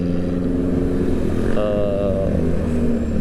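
A motorcycle ridden on the road toward Bandung gives a steady, close engine drone with constant wind rush, unbroken for the whole stretch, with a brief faint voice partway through.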